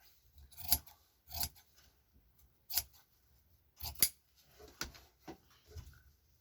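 Scissors cut out fabric pieces in a series of quiet, close snips, roughly eight separate crisp cuts spaced unevenly with near silence between, no voices.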